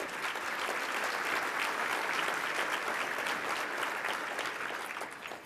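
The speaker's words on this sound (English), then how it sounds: "So give yourselves a round of applause for being here today." An audience at the 2018 Seattle Metro Chamber annual meeting applauds in a large room, a dense, steady wash of clapping hands held at even loudness with no talking.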